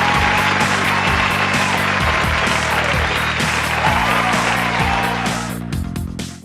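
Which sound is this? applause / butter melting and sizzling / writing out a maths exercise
applause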